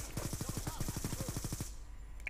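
Rapid automatic fire from a fast-shooting video game weapon, a steady burst of evenly spaced shots for about a second and a half, then cutting off into near silence.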